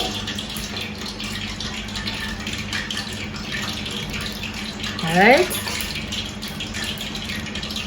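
Tap water runs steadily over floured chicken pieces being washed in a kitchen sink, a constant hiss and splash under brief speech, with a short louder gush midway.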